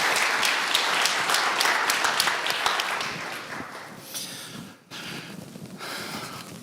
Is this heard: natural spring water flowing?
no